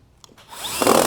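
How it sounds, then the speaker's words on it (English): A power drill spins up to drive screws into wood boards while building a cornhole game set, rising from quiet into a loud, close whirring burst. "drill 2 screws into here to hold it together"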